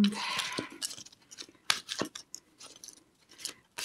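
Close, papery riffling and soft snaps of tarot cards being shuffled, in short irregular bursts with quiet gaps between.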